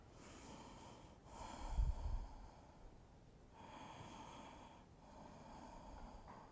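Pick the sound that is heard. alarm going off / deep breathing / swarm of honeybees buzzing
deep breathing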